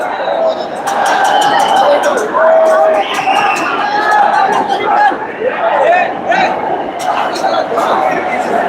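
Large Maratha crowd packed into CST station in Mumbai, a loud, continuous roar of many voices with scattered shouts and chanting, close and sustained throughout.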